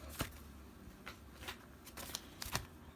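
Coffee-stained index cards and paper pages being handled and shuffled, with several crisp papery flicks and rustles spaced irregularly, soft and close, with no voices.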